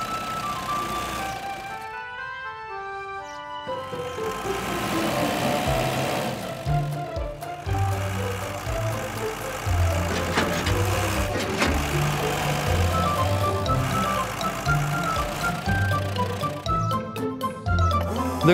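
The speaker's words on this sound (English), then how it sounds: "The crane truck and tow truck are coming out of the garage." Cartoon crane truck and tow truck drive out of a garage, engines rumbling under a jingly tune, with a busy mix of motor hum and playful sound effects lasting throughout.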